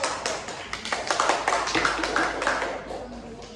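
A classroom full of people claps together, a dense, steady patter of many hands applauding for several seconds.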